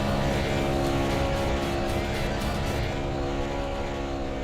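NASCAR Cup Series cars doing burnouts in the iRacing sim, a dense, loud engine roar with steady revving that fills the whole stretch without a break, with no voices over it.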